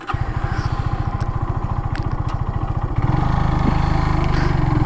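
A Kawasaki W175 motorcycle's single-cylinder engine thumps in a close, steady rapid pulse, then shifts up a gear around the midpoint and carries on louder and deeper.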